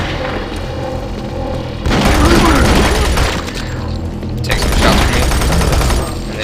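Gunfire in the shooter game Doom 3 BFG comes as loud, dense bursts of booming shots and rapid automatic fire, layered with heavy game effects and thuds.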